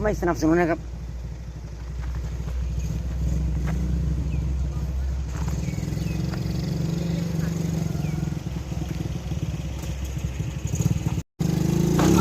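A motorcycle engine revs as a boy lifts the front wheel, a loud, close, sustained drone with shifting pitch, while people talk over it.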